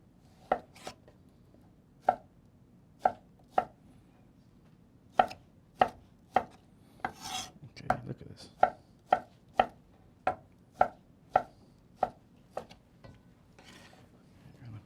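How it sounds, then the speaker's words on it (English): A paring knife chops strawberries on a cutting board in sharp, distinct taps, some paired, spaced unevenly at a moderate pace, close and crisp against a quiet background. "Now I'm gonna chop some of my strawberries here."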